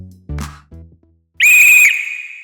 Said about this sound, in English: a whistle echoed through the gym.